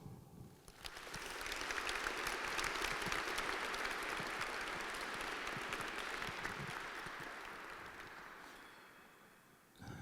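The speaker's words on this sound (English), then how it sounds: "let's have a round of applause." A ceremony audience gives a sustained round of applause, dense clapping swelling quickly, holding steady for several seconds, then fading near the end, with no talk over it.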